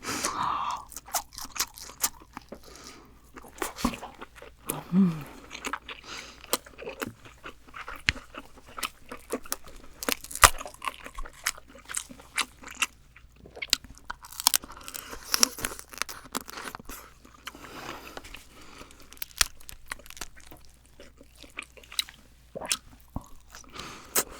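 Someone eats spicy giant king crab and a red fishcake skewer very close to the mic. Crisp crunches, shell cracking and wet chewing repeat irregularly throughout, with no talking.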